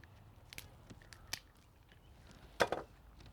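A few sharp, quiet cracks and snaps, the loudest pair near the end, as a lobster shell is broken apart by hand.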